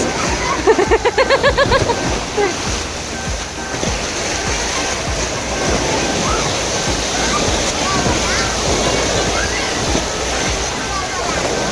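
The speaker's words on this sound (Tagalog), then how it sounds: "Ganda ng wave dun, parang dagat." Waves wash and splash continuously through a crowded wave pool, a steady broad surge of water with a brief burst of shouts and voices near the start; people talk faintly throughout.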